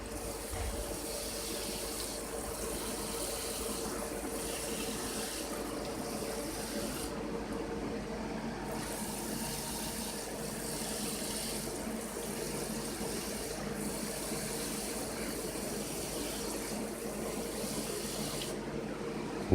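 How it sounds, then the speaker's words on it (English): Water pours steadily from a spout onto potted cannabis clones, a continuous close splash and trickle lasting the whole stretch with only slight shifts in flow and no talk. "water our clones."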